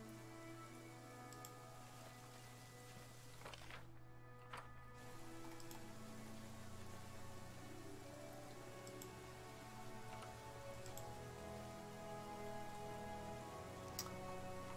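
Heavy rain falls steadily across an outdoor map in the fantasy role-playing video game Pathfinder: Kingmaker, a constant wash of patter with scattered drop ticks over a low ambient drone, with no talking.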